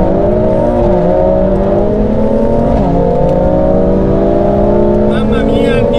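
Two cars, an AMG A45 S and a BMW M2 Competition, accelerating hard side by side in a drag race, with loud continuous engine tones rising and shifting through gears while a person talks over them.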